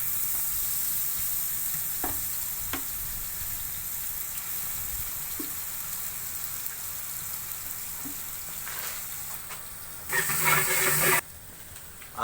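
Ginger paste frying in a pan with onions and green chillies, a steady oily sizzle with occasional stirring clicks and a sharp burst of louder hissing near the end.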